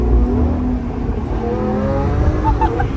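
Lamborghini Aventador on a winter drive, its engine giving a deep, steady, rumbling drone with a slowly rising pitch, loud and close, like an interior or nearby recording, with no voices.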